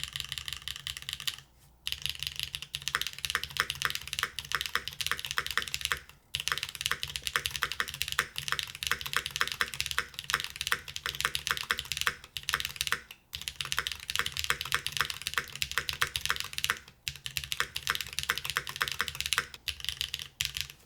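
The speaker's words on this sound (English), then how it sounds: "Let's see what this keyboard sounds like in stock form" Steady fast typing on a stock retro-inspired mechanical keyboard fitted with its included keycaps, dense clacky keystrokes close up with a few brief pauses, no voices.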